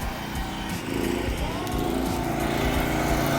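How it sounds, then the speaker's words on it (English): Power tool cutting metal pan decking to length during an exterior door installation, a steady loud engine-like whine running throughout with a slight rise in intensity partway through. "He's gonna start cutting the pan decking at 30 inches."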